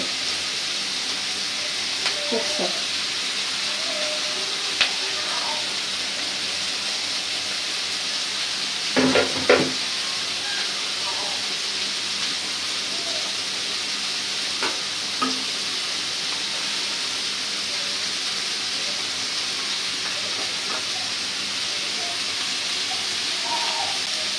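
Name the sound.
beaten egg frying in a pan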